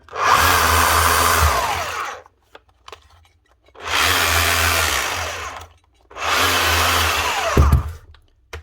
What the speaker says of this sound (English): Faulty Makita hammer. Won't come out of rotation.